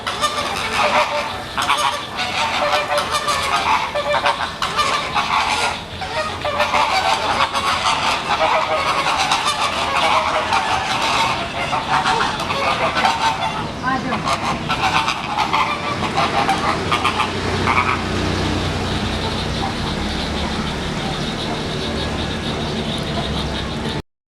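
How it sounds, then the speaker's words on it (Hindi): A large flock of flamingos in a zoo wetland aviary honking and calling continuously, a dense, loud chorus of goose-like cries that thins slightly toward the end. "यहाँ वेटलैंड बर्ड्स में मुख्य आकर्षण फ्लेमिंगो का है, जिसे हम यहाँ पर हज़ारों की संख्या में देख सकते हैं।"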